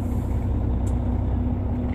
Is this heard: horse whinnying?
no